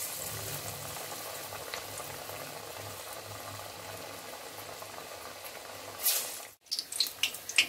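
Vada lentil fritters fry in oil over a medium flame, a steady close sizzling hiss that briefly dips and crackles near the end, with no one speaking.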